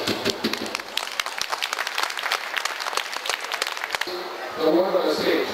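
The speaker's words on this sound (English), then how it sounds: "let's give the round of applause to our candidates" Applause from an audience greeting election candidates at a Toronto Chinese business association's municipal election forum, a dense steady patter of many hands lasting several seconds, then thinning out under a voice.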